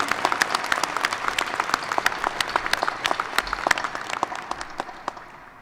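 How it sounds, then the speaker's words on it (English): At a university graduate degree ceremony the audience claps for the faculty, with sharp, distinct claps and a fuller wash of applause behind them, holding steady and then easing off a little toward the end. "give them a round of applause for all they've invested"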